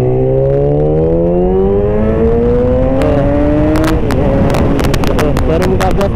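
A Yamaha R6 sport motorcycle accelerating hard, the engine note rising steadily in pitch as it revs up through the gear, loud and close with wind rushing, and clicking noises toward the end.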